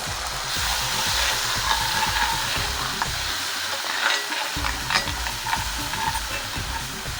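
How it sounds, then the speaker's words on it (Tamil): Ground paste for butter chicken sizzles and fries in butter in a pan on low flame, a continuous loud crackling hiss with occasional stirring scrapes and no voices. "ஒரு 2 minutes வந்து இந்த பேஸ்ட்டை நான் பட்டரில் நல்லா வதக்கிட்டேன்"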